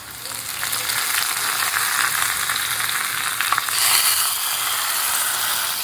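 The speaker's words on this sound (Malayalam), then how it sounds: "രണ്ട് കരിവേപ്പിൻ്റെ കൂടി ഇടാം ആയി വരട്ടെ ഉള്ളിയൊക്കെ നല്ലൊരു ചുമന്ന കളറായിട്ടുണ്ട് വറുത്തോട്ടാം" Onions and curry leaves frying in oil, a dense, steady sizzle close up with faint scraping and clinking of a stirring utensil, louder toward the end and with no talk.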